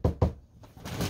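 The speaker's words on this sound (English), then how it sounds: "And if anybody knocks on the door, Duke is terrified of the front door." Knocking on a front door, two sharp close raps in quick succession followed by a quieter scuffling sound.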